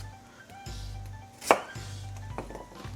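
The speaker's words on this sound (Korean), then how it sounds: "내가 원하는 두께의 깍두기를 원형으로 썰어서 준비해 주시고요." A knife cuts Korean radish on a cutting board in a quiet kitchen. A single sharp, loud chop lands midway, with softer knife taps and board knocks around it and no voices.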